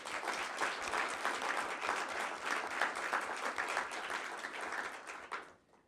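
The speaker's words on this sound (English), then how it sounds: "let's give ourselves a big round of applause" Staff at a NASA end-of-year all-hands meeting give a large audience round of applause, dense and sustained for nearly six seconds before it tapers off.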